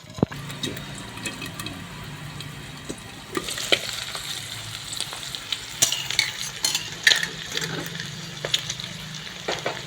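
Eggs cook in a pan for egg fried rice, sizzling and crackling steadily, with the spatula louder and busier in the second half and clattering against the pan.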